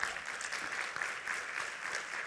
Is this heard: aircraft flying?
no